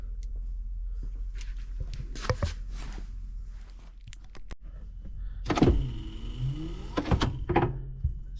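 Worn windscreen wiper motor on a Land Rover Defender with the dash off, whirring in strained, rising and falling sweeps after a run of clunks and knocks, close up and with no talking.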